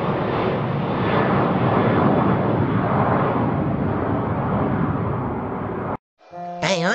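A steady, loud roar of engine and cabin noise fills an airplane in flight, constant and close for about six seconds before cutting out abruptly into a short tonal sound.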